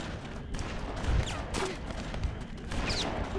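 Scattered gunfire bursts crackle through the BloodRayne video game's busy action mix, several short shots layered over a continuous rumbling background.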